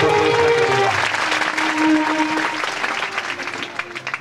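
Loud crowd applause at a student conference, dense and sustained, with some tonal sounds in the background early on, gradually thinning toward the end.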